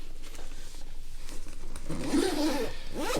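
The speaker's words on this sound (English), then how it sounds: "Zip it up." A zipper is pulled closed on a bag holding an Akai MPK Mini MIDI controller, a close scratchy zip rising over the last second and a half after quiet handling.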